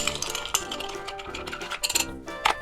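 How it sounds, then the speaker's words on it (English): A spoon stirs ice in a Collins glass of rum cocktail with grapefruit juice, making quick, close, irregular clinks and taps with a few brighter knocks against the glass, with no talking. "Give it a little stir."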